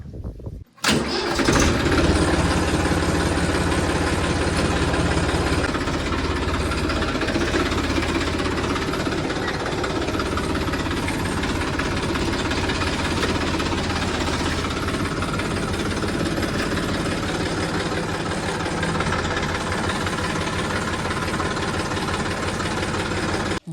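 A tractor engine starts with a sharp crank, then runs steadily at a loud, close idle, a continuous rumbling drone that holds through to the end.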